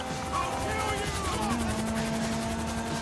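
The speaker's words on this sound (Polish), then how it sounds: "helikopter" A helicopter in GTA V Online whirs with a steady rotor chop and engine hum, moderately loud under a busy game soundscape with tonal effects sliding over it.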